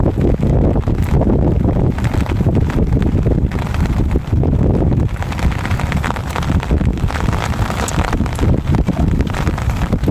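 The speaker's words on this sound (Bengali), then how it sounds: "বাতাসও প্রচুর বাতাস।" Strong wind buffeting the microphone on a river during rain while fishing with a net, loud continuous gusty rumble with rain patter throughout and no talking.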